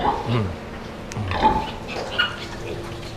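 Thirty-day-old piglets on a pig farm give short grunts and higher squeals, scattered and close, with a few bumps and shuffling sounds around them.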